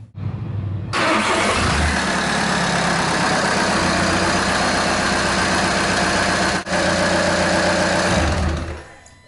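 A VW Golf MK6 TDI diesel engine, 2009-2014, cranks and fires straight up, then settles into a steady, close, loud diesel idle with an even clatter before shutting off.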